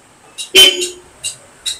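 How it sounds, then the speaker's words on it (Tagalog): A Honda ADV160 motorcycle horn gives several short, sharp honks, one louder blast followed by quicker taps, close by. "Testingin mo yung busina."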